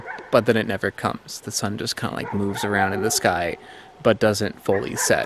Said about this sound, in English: You may hear some dogs barking.